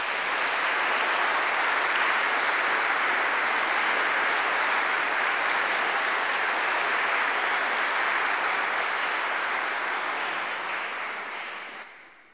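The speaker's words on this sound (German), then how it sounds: "das ist schon mal ein erster Applaus für Sie wert" A church concert audience in Gronau gives sustained applause during an organ concert. The dense, even wash of clapping holds steady for about ten seconds, then tapers off at the end.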